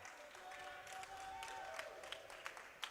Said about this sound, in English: A round of applause starting here from the Albertan fans right in front of us